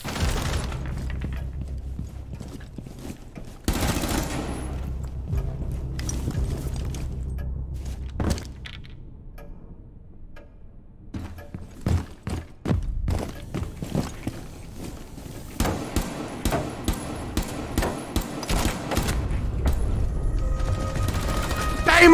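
Video game gunfire in a round-based shooter: bursts of shots and sharp cracks scattered through the clip, with dense rapid volleys in the second half and quieter scuffling movement between them, no talk.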